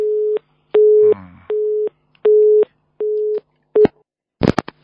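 A telephone busy signal after a dropped call on a radio call-in program: loud, close beeps repeat evenly about six times, with a brief burst of line noise partway through and a clatter at the end.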